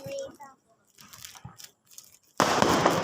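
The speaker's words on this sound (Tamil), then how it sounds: "அப்பா இது கிளி வெடி." A kili vedi Diwali firecracker bursts nearby after a few quiet moments of talk, breaking into a loud, sustained hissing crackle that continues to the end.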